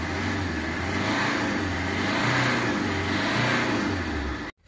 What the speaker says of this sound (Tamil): உங்களுக்கு இன்னும் இன்ஜினோட நாய்ஸ் காட்டுறேன்.